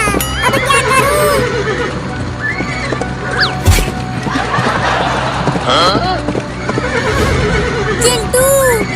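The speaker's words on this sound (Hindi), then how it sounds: "ये मेरा घोड़ा तो रुक ही नहीं रहा।" A horse in a desi comedy skit neighs loudly and repeatedly while hooves clatter, mixed with a person talking and a busy, bright background, one sharp bang near the middle.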